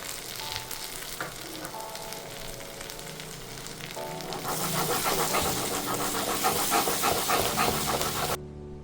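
Onions, green chili and salt sauté in a pan with a loud, continuous sizzle that swells partway through alongside stirring scrapes, close up and with no speech.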